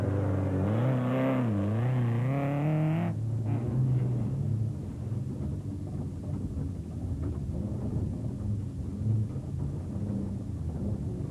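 A Castrol Toyota Hilux rally truck in Class E racing at the Sun City 400 in 2004, heard on board: loud, rising-and-falling engine whine that gives way to a rough, continuous roar mixed with heavy wind buffeting.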